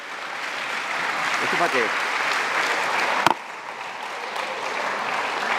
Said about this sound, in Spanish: Le damos un aplauso a nuestro Dios.